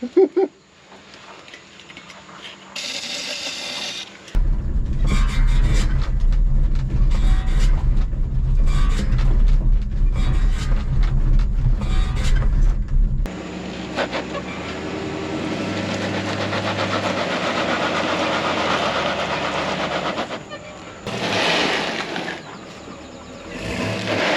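A Chevy C30 truck, off the road since 1978, has a worn clutch. Its engine cranks and catches, then runs loud and rough with a heavy low rumble before shifting to a steadier, lighter running note.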